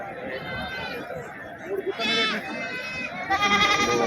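Two loud, quavering goat bleats ring out close by over the murmur of a busy crowd at the Pebbair livestock market.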